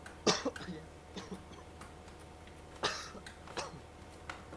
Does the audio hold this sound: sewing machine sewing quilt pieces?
no